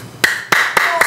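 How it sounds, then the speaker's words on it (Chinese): A studio audience on a medical talk show claps in unison, four loud, sharp hand claps spaced about a quarter second apart with a faint tonal ring behind them. "大家鼓掌，声音都大来鼓掌"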